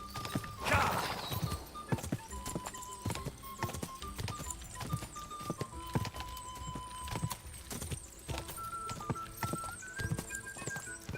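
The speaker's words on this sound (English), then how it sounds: "Well, the horse riding kicks my ass." A horse is ridden in Kingdom Come: Deliverance II, its hooves clip-clopping at a steady gait the whole time. A whinny comes near the start, and everything sits at a moderate, fairly close level.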